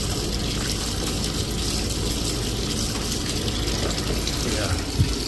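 Water backs up in a bathtub drain in a home, a steady close hiss and gurgle of running water that continues evenly throughout with no talking.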